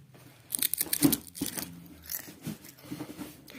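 Crisp crunching of a new-flavour potato chip being bitten and chewed close up, several sharp crackly bites in quick succession with no talking over them.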